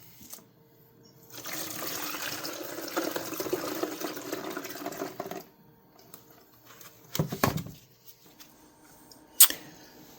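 Tap water runs steadily while a vintage Schrade Walden #182 grafting knife is washed, a broad hiss lasting several seconds, then stopping, followed by a few brief clatters and a sharp click near the end.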